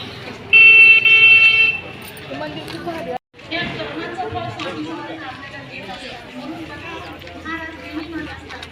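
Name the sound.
busy vehicle traffic at a festival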